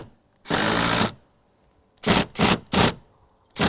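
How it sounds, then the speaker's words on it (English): An impact driver runs a screw with coarse thread into a rafter under a slate roof, giving one sustained half-second burst followed by four short, loud, separate pulses, close and with no talk. "Just using a standard impact driver"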